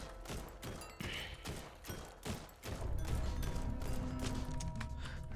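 Rapid bursts of gunfire from the video game Guns 'n Goblins, a run of sharp repeated shots over the first seconds giving way to a dense, sustained roar of firing, loud and up close with no talk.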